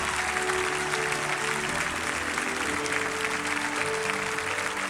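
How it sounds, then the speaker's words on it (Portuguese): A church congregation applauds continuously, dense and steady clapping filling the room throughout, with a few faint voices mixed in. "Você pode aplaudir ao Senhor por essas vidas transformadas"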